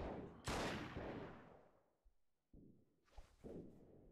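Enemy gunfire in Freeman: Guerrilla Warfare during a siege: sharp cracks of shots, some echoing off into the distance, fall in a loose, uneven sequence with quiet gaps between them.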